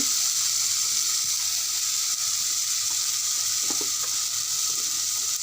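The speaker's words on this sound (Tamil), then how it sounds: "வெங்காயம் பச்சை மிளகாய் இஞ்சி பூண்டு சேர்த்துருக்கேன் இது அது வதங்கிட்டு இருக்கு" Onion, green chili, ginger and garlic sauté in a pan with a steady, moderately loud hiss and sizzle, broken by faint occasional stirring scrapes.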